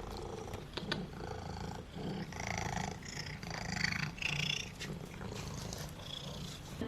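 A domestic Ragdoll cat purrs close up with a deep, rumbling, tractor-like drone that pulses steadily and continuously, moderately quiet with no talking.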